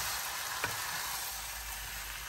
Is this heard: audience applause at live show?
no